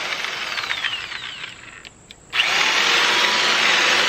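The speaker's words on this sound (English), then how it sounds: "when I'm cutting it, I don't have to worry about chainsaw hitting the ground because this thing is already on the floor" A chainsaw cuts through wood lying on the floor, its high, buzzing whine loud and close, easing off briefly in the middle before surging back in at full, steady power.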